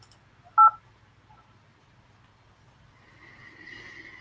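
A single short touch-tone beep from a phone keypad while dialing into an automated phone menu, followed by a quiet line hum and a faint tone near the end.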